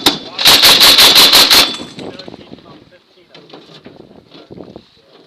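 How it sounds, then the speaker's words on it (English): A Mark 19 40mm belt-fed automatic grenade launcher fires a rapid burst of about six loud, evenly spaced reports during a military exercise at Camp Fuji, Japan, followed by fainter echoing rumbles and distant noise. "fires a Mark 19 40mm machine gun grenade during Exercise Shinka at the Combined Arms Training Center"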